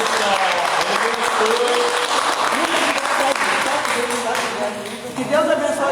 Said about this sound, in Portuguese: nós estamos de palmas